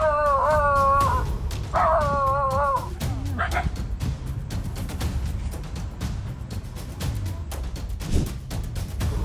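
A dog yelps, howls and whimpers loudly in short harmonic cries over the first few seconds as a jaguar attacks it, biting its neck while it sleeps on a porch, then a rough scuffling struggle continues with scattered thumps.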